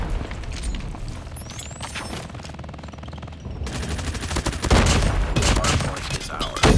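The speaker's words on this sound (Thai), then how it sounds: "ว้าวระเบิด" Rapid automatic gunfire and bursts of explosions in a Call of Duty Mobile match, loud dense volleys that swell toward the end, with brief whizzing effects early on.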